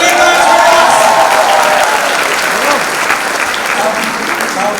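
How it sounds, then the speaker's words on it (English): An audience at a book unveiling event applauds Vidya Balan, loud sustained clapping from a crowd that fades slightly toward the end, with a voice speaking over it early on. "a big round of applause to Vidya"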